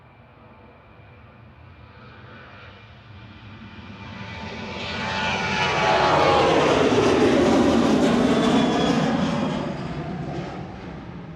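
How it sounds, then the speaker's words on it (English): A Ryanair airliner rolls for takeoff at Manchester Airport, its engine roar building to a loud peak mid-clip and then fading slightly as it passes, heard at a distance with no speech. "So we've got Ryanair rolling. This is going to Palma de Mallorca."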